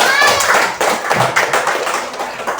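Children in a classroom clap their hands in a short burst of quick, overlapping claps lasting a couple of seconds, fairly close and loud, with a voice or two mixed in.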